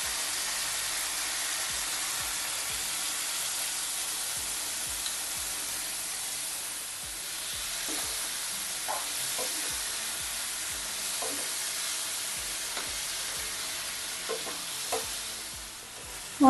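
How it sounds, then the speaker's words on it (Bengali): Spice masala being sautéed with softened ridge gourd in a pan for a Bengali ridge gourd curry: a steady close sizzle runs throughout, broken by scattered scraping stirs that cluster toward the end, with no talking. "এখন আমি মশলাটা দিয়ে ঝিঙার সাথে আবার কষিয়ে নেব ভালো"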